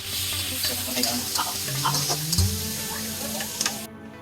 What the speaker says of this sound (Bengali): পেঁয়াজটাকে বেশি ভাজবো না